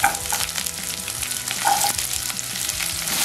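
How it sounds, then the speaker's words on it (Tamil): Garlic, green chillies and shallots sautéing in hot oil in a pan, a steady close crackling sizzle with stirring scrapes throughout. "எல்லாத்தையும் நல்லா வதக்கி விட்டுடலாம்."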